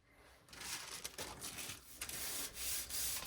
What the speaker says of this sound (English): Now I'm just going to do a quick burnish.